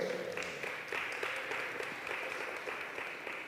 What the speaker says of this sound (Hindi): ज़ोरदार तालियों में वेलकम करेंगे।